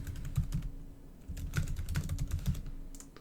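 Close, brisk typing on a computer keyboard: uneven bursts of sharp key clicks with a short pause near the middle, otherwise alone.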